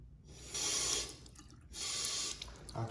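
A clogged faucet aerator is rinsed under running tap water in two close bursts of splashing flow, separated by a short pause, near and fairly loud.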